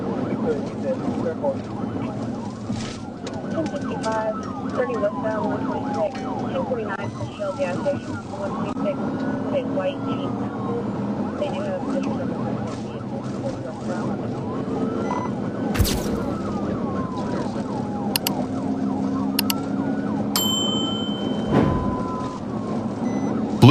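A police motorcycle siren wails in repeated rising and falling sweeps over a steady engine rumble during a highway chase on Interstate 30, with a few sharp clicks and bursts near the end.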